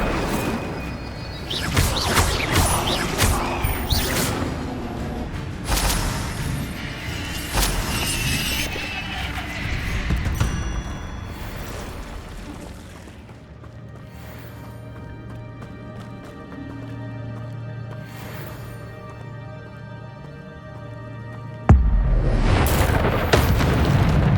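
Incendio fire spell blasts in Hogwarts Legacy, loud booming bursts and crackling impacts amid game battle noise, with a quieter stretch of low hum before another heavy blast near the end.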